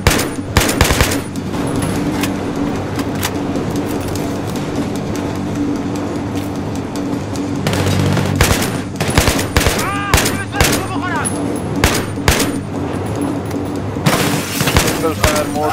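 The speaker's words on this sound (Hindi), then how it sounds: "सिंगल फायर मोड में चलाता हूँ, ज़्यादा कंट्रोल हो पाएगी गन।" Gunfire in the video game Battlefield 3, loud and dense, with rapid shots and heavy blasts over the game's constant rumble and a voice commentating.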